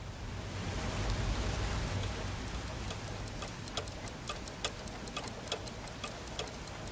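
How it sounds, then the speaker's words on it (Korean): A clock ticks steadily and crisply inside a shop over a constant wash of heavy rain on the roof, with no voices. "째깍째깍하는 시계소리와 뒤섞였다"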